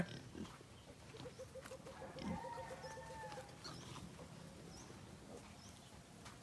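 Piglets in a breeding pen with a mange problem, soft grunts and squeals mixed with clucking chickens and farmyard noise, fairly faint and distant.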